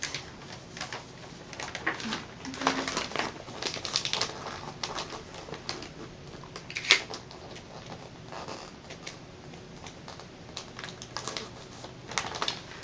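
Wrapping paper being handled and taped around a present, with crinkling, tearing and tapping bursts in an irregular rhythm, close and fairly loud, and no talking.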